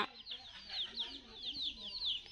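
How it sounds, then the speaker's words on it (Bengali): A chicken, the mother hen of chicks, clucking in a quick series of short rising calls, close and fairly clear over a quiet background. "একটা বড় চিকেন"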